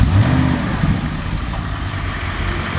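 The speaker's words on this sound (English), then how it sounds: "And then go start the car." A brand-new car's engine starts up and settles into a steady, fairly loud idle with a low rumble, heard alone from close by.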